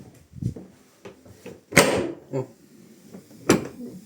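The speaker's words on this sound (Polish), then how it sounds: "kiedy drzwi się nie chcą otworzyć?" A stuck door at a campsite in Denmark is pushed and pulled without opening, giving a run of dull thumps and rattles broken by two sharper, louder jolts, close by and with no voices.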